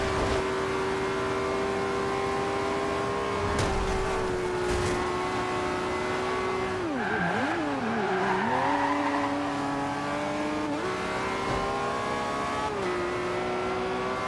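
Lamborghini Aventador race car accelerating hard in Forza Horizon 2, a loud sustained engine roar with rising and falling revs, a dip and swoop mid-run, and tire squeal, no talking.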